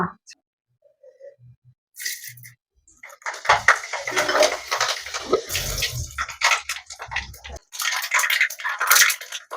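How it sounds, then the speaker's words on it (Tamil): Fenugreek and mustard seeds hit hot oil in a pan, raising a crackling, sputtering sizzle that starts after a couple of quiet seconds and carries on loud and close with small pops. "நம்ம எண்ணெய் சூடாச்சு வெந்தயம் கடுகு இது மட்டும் தான் நம்ம சேர்க்க போறோம்"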